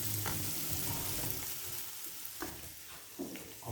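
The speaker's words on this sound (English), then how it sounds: "give that a quick stir" Tinned fish pasta sizzles in a hot pan while a spoon stirs it, with a steady frying hiss and a few scraping strokes near the end, close and moderately loud with no voices.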